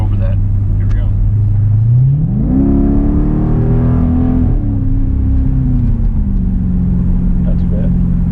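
A Jeep SRT with an aFe Power exhaust idles, then its engine revs up in a rising roar, holds briefly and falls back to a deep idle, close and loud, with a voice speaking over it.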